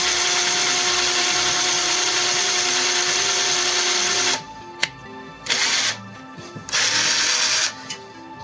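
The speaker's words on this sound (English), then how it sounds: "why did you guys make your phone so hard to drill through?" A power drill bores into an LG phone, its high whine grinding steadily for several seconds, then cutting out and restarting in short bursts with brief gaps between.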